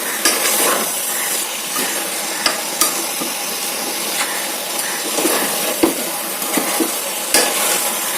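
Chicken fries in a pan with two spoons of chili powder while being stirred, a steady close sizzle broken by frequent clicks and scrapes of the spoon against the pan, with no talking.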